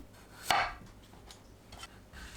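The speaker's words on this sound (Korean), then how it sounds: "애호박은 양끝을 자릅니다" A knife slices through the end of a zucchini on a cutting board: one sharp, close chop near the start, followed by quieter faint board and handling sounds, with no talking.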